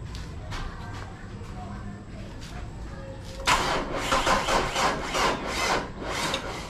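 A vehicle's starter cranks on a weak battery, beginning about halfway through after a quieter stretch of low background noise, then churning in steady rhythmic bursts that sound strained and uneven.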